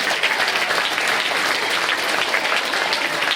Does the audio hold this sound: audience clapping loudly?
yes